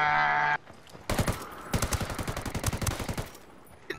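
Gunfire in Ghost Recon Wildlands: after a brief tonal sound, a loud shot lands, then a rapid burst of automatic fire rattles steadily for about two seconds before tapering off.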